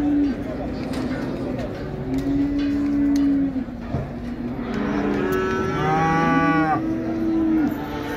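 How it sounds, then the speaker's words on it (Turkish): Barren cows at a cattle market in Şarkışla moo repeatedly, long low calls close by, one rising into a higher bellow, over a crowded background murmur. "İnekler bunlar arkadaşlar. Kısır inekler."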